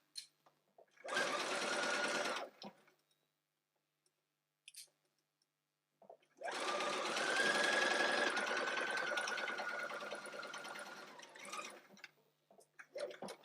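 A sewing machine stitches the side seam of a bodice toile in two close bursts, a short one and then a longer steady run, separated by quiet pauses with small clicks.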